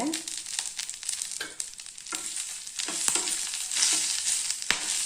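Curry leaves and a couple of pieces of tamarind sautéing in a pan for chutney, a close, crackling sizzle broken by repeated scraping stirs of a spatula.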